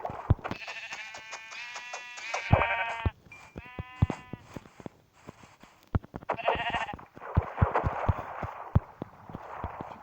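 Several bleats from sheep in Minecraft in quick succession, interrupted by clicks and tapping, followed by rustling noise.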